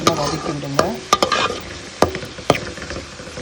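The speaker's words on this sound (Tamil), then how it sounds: "சேர்த்து இது நல்லா வதங்கட்டும். நல்லா வதக்கி விடுங்க." Chopped onions and tomatoes with salt sauté in a pan for capsicum rice while a spatula stirs and scrapes in several distinct clanks over a soft, continuous sizzle, heard up close without talk.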